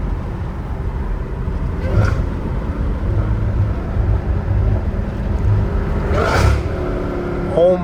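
An 850 hp Dodge Hellcat Redeye rumbles loudly from inside the car, with throttle blips and surging revs on downshifts over a steady low engine drone.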